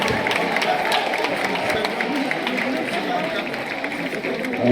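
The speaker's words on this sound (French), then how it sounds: "Un applaudissement, s'il vous plaît." An audience at an evening conference in Paris applauds with sustained, even clapping and crowd murmur lasting several seconds.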